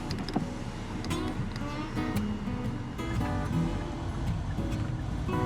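The power window of a car in hot weather in Guam hums as it opens, a steady motor whir under road and cabin noise with some brief clicks.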